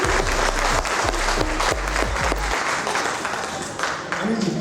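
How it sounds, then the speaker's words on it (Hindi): Enthusiastic applause from a crowd at an achievers' wellness event, loud close clapping with a low rhythmic thumping underneath for the first half, then the clapping continues alone and gradually thins. "जोरदार ताली सर के लिए"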